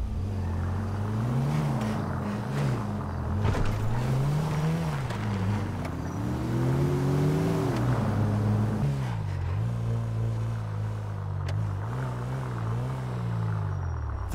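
Car engine driven in GTA 5 Online during a Downtown Cab Co. taxi job, a steady droning hum whose pitch rises and falls with acceleration and gear changes, continuous and close with no talk.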